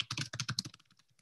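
Quick typing on a computer keyboard: a dense run of rapid, close key clicks that thins out into a few scattered taps near the end.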